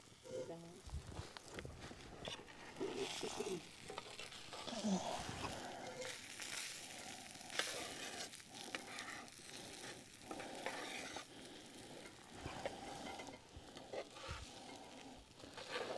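Sausage fries in an iron skillet over a campfire, a faint steady sizzle with scraping and skillet handling beneath people talking outdoors.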